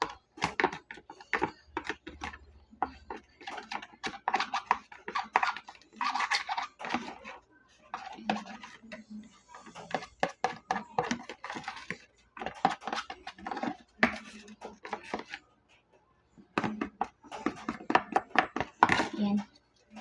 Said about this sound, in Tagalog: Dapat pag nabubuo, haluin lang natin siya.